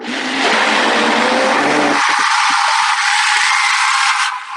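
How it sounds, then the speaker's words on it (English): Kitchen blender blades chopping fruits and vegetables for a smoothie, a loud, steady, harsh motor whir with grinding texture that runs continuously, then cuts off near the end. "It'll start chopping the blades. You can hear it against these fruits and vegetables."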